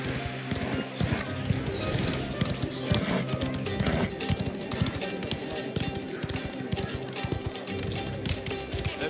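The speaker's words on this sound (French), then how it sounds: "Je me croyais rapide, mais tu sais vraiment foncer à cheval" A horse galloping in the video game Mafia: The Old Country, its hooves pounding in a fast, continuous clip-clop rhythm, close and loud, with occasional snorts and faint voices mixed in.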